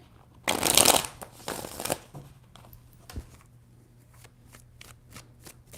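Tarot cards are shuffled up close in a loud burst of riffling and sliding, then a series of lighter, spaced taps as the deck settles. No one speaks.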